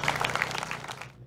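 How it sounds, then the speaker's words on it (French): Brief applause from the audience at a motorsport prize-giving ceremony for the Dunières Auvergne 2022 rally, a short burst of scattered clapping that quickly tails off. "Je vous demande d'applaudir comme il se doit Cindy Gudet"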